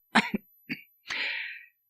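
Two quick coughs close by, then a short third, followed by a longer, harsh, hacking cough; no talking.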